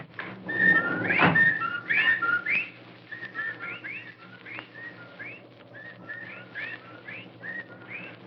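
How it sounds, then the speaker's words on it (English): Whippoorwills call through a night scene in a classic radio horror drama, a string of repeated whistled phrases, louder at first and then quieter and spaced out against a low background hum. "Well, there are the whippoorwills."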